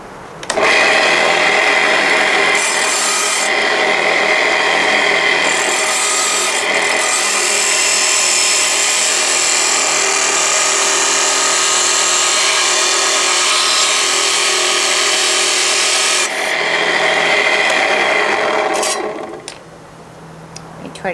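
A stone cabochon blank is trimmed at the ends on a cutting saw, making a loud, steady grinding whine that runs almost without a break before cutting off near the end.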